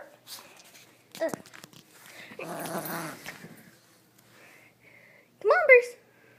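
Bruce, a pet dog, gives a short growl during play, with someone talking and coaxing over the scuffling and panting.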